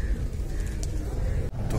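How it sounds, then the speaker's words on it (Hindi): Pigeons coo softly at the Bahauddin Zakariya shrine in Multan, a low steady murmur under a dense, continuous crowd-like background, with one brief dip in level. "तो मेरे पीछे कबूतर है यहाँ के"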